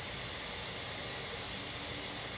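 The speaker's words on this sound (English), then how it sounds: "So when you're releasing the steam" Steam releasing from an 8-quart pressure cooker while cooking stuffed peppers, a steady, unbroken hiss that holds at an even level from start to finish.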